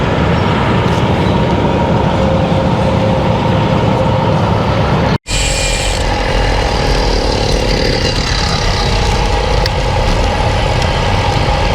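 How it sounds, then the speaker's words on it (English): A small engine mounted on a bicycle drones steadily while the bike is ridden along a road toward a creek bridge. The hum is close and continuous, with a brief cut partway through. "My bike has an engine on it,"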